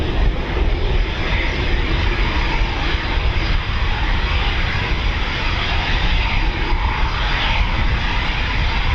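An RAF Typhoon FGR4 jet roars loudly and continuously at full power on its takeoff run at RAF Coningsby, a dense, sustained engine blast that fills the whole stretch.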